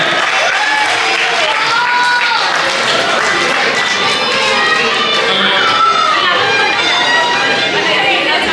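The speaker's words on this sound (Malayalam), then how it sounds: "ഒന്നെല്ലാവരും കൈയടിച്ചേ" Crowd at an Onam celebration prize-giving claps and chatters together, with voices and cheers mixing over a loose, continuous patter of hands.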